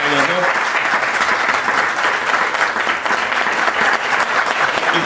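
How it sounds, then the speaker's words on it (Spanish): Audience applause at a radio conference in honour of the two people recording the event, a steady, dense clapping that fills the whole stretch without a break. "Un aplauso para ellos dos."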